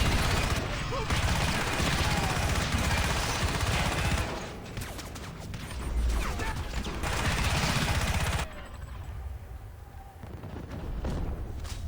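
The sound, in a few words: suppressing gunfire in video game Crysis Remastered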